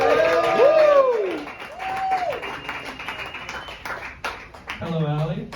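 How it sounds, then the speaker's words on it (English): A comedy battle audience claps and cheers as a competitor is introduced, a steady wash of applause under loud, melodic whooping and voices throughout. "Clap it up for Allie Feete, everybody."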